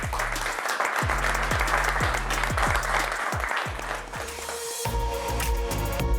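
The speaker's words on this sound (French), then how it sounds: "Alors ça mérite des applaudissements." Audience applause for a banking executive, with crowd clapping heard over a loud, pulsing musical beat with deep bass hits that shifts to sustained tones near the end.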